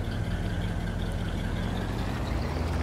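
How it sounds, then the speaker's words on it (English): Lizard V8 engine of a car in Farming Simulator 22, a steady low rumbling idle that holds even and continuous throughout, fairly close with no voices over it. "I've got the Lizard V8 in here. It sounds pretty good."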